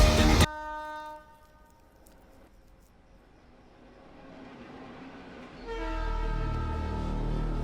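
A train horn blasts loudly for a moment, then a low rumble of a passing train builds into a second sustained horn near the end, close and without talk.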